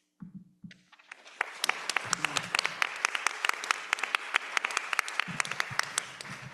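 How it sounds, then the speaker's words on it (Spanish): An audience at an academic colloquium on translation in the Judeo-Arabic context applauds the readers Shekufé and Silvana, a modest, fairly close round of scattered individual claps sustained for several seconds after brief murmuring at the start. "este aplauso para Shekufé que leyó y para Silvana también."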